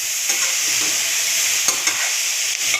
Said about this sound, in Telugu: కరివేపాకు వేసుకున్నాక ఒకసారి కలుపుకోవాలి